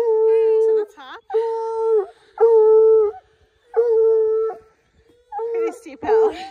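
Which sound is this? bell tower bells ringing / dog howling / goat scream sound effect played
dog howling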